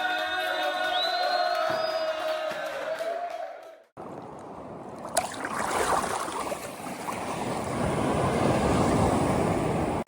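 Ocean waves washing onto a beach in Goa, India, a steady broadband roar of surf that grows fuller after a brief break, with wind noise and a faint sharp sound partway through.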